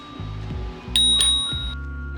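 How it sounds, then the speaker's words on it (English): A bicycle bell on the handlebar of an HJM e-bike rings once with a bright, sustained ding, close and clear, after a few soft handling clicks. "Also in front of the controls, you have your bell."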